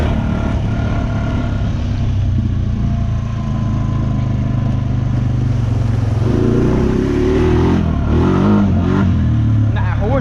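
A 420 ATV engine revs up and holds a rough mid-pitched drone, climbing louder toward the end, close by and fairly loud with no talk over it.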